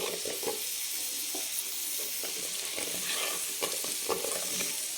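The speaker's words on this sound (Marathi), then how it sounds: "मस्त एकदम तळून घ्यायचं आहे छान सुगंध सुटला पाहिजे एकदम" Masala for a Marathwada-style goat mutton curry fries and is stirred in a pan, with a soft continuous sizzle broken by repeated scraping strokes of the spoon at a moderate, even pace.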